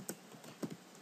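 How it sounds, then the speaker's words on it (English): Quiet, sparse keystrokes on a computer keyboard, a few light clicks spaced irregularly, typing a web address into a browser on a local server setup. "click type http localhost / php my admin"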